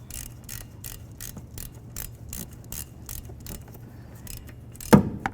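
A ratchet snugging engine mount nuts on a 2007-12 Nissan Altima, heard as quick repeated clicking bursts in an even rhythm, close and fairly quiet, ending with a louder clunk.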